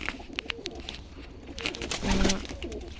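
A pigeon coos softly nearby, a low burbling call that swells toward the end, with scattered light rustling and clicks around it.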